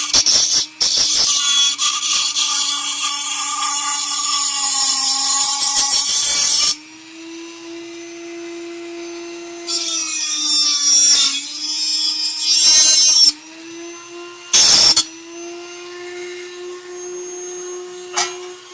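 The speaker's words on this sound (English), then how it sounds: "So I get my cutting wheel." Cutting wheel on a power tool grinding through metal, a loud high-pitched whine in long bursts of several seconds, broken by short pauses as the wheel spins down and then bites again.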